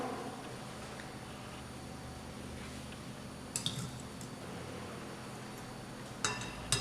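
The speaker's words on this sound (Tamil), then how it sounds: "இப்போ இந்த மாதிரி கட்டியே இல்லாத அளவுக்கு நல்லா க்ரீமியாக நல்லா மிக்ஸ் பண்ணிக்கிறோம்." Eggless vanilla sponge cake batter being mixed until creamy, a soft, steady wet squishing with faint clinks of the utensil against the bowl, quiet and close.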